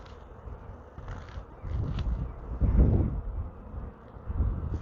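Honeybees buzz softly around a hive frame as foragers return loaded with pollen, a faint, wavering hum with light wind noise and handling rustle, rising and falling over a few seconds.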